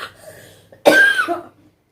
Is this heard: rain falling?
no